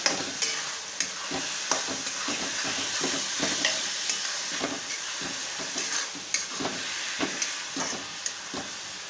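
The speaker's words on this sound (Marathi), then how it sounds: "पहिला कांदा चांगला भाजून घ्यायचा आहे." Onions frying in a pan for Kolhapuri misal, a continuous close sizzle broken by frequent irregular scrapes and taps of stirring throughout.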